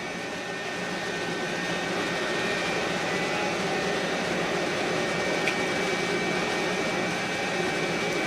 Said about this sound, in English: The fans just kicked on.